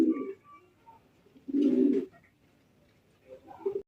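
Golla Giribaj fancy racer pigeons cooing at a farm, a few soft, low, close coos with pauses between them.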